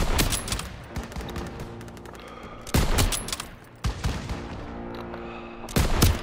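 Heavy gunfire in the World War 2 shooter Call of Duty: World War 2, fought at a stronghold courtyard with an AA gun, as dense volleys of rifle and machine-gun shots crackle in bursts, with several loud close blasts standing out over steady background fire.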